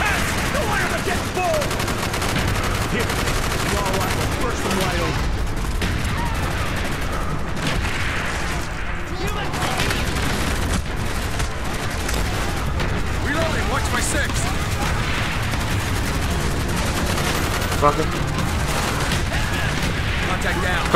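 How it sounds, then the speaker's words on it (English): Trench gun shotgun firing in the Call of Duty: Black Ops video game, buried in a dense, continuous wall of loud battlefield gunfire and explosions that runs without pause throughout. "This is a trench gun!"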